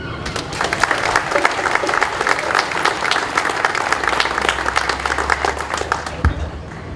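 Audience applause at a Cape Verdean flag raising ceremony, a steady crowd clapping throughout, with a low hum entering near the end and a brief thump before it fades.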